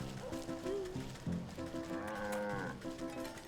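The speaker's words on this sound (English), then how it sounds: "Wait, there's a cow here." A cow moos in a farm field in the video game Wytchwood, giving several drawn-out, tonal lowing calls at a low level with brief gaps between them.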